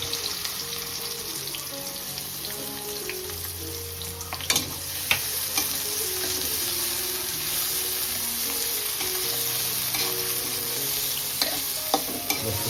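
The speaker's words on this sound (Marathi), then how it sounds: "आता आपण मिरची टाकू तेलामध्ये त्याच्यासोबत लगेच लसूण टाकायचं लगेच कांदा पण टाकून घेऊ" Chili, garlic and onion fry in hot oil, giving a steady, close sizzle with occasional sharp clinks and scrapes of stirring, and no one talking.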